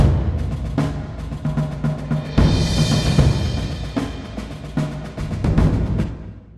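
A cinematic drum pattern of surdo, taiko, toms and cymbals thunders in heavy, uneven hits, swelling into a bright cymbal wash midway, then pounding on to the end, loud and close.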